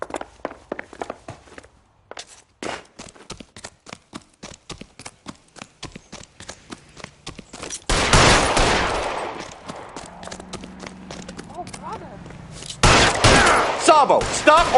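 Gunfire in the video game L.A. Noire, a run of sharp clattering shots and footsteps giving way to louder bursts of firing and noise later on, with brief talk.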